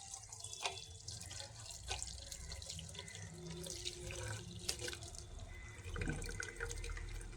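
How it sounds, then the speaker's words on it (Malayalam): Cooked spinach water is strained from a pot into a vessel, a soft, steady pouring trickle with splashes and drips, faint and close, with clinks of the vessel. "ഇതൊരു പാത്രത്തിലേക്ക് അരിച്ചൊഴിച്ചു കൊടുക്കാം"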